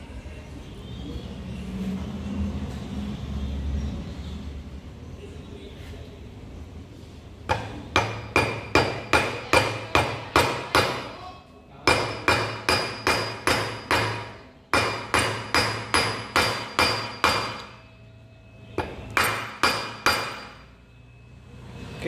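A rubber mallet taps a new bearing into place during a bearing replacement, in steady close bursts of rapid, evenly spaced knocks separated by short pauses, with no talk.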